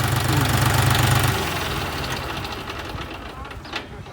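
A John Deere 5040D tractor's 2,900 cc three-cylinder non-turbo diesel idles nearby with a steady, knocking rumble, deeper and heavier at first, then settling into a lighter chug.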